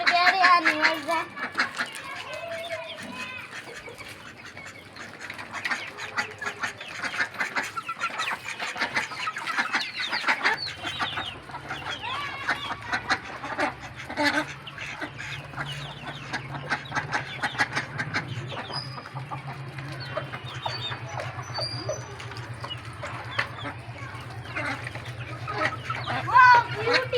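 Chickens clucking on a small home farm, soft scattered clucks and chatter continuing throughout at moderate distance, with a voice talking over them.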